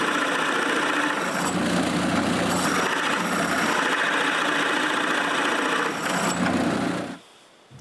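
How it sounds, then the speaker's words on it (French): A drill boring a large, shallow hole into the centre of wooden blocks, a loud, steady motor whine with a grinding cut that runs for about seven seconds and then stops abruptly. "Puis, je perce un gros trou peu profond au centre des blocs."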